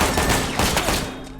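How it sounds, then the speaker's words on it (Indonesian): Burst of gunfire from a film scene, dense loud shots crowding together over the full stretch before easing slightly at the end, with no voices. "Paul menembak si pelaku tepat di hari siang bolong"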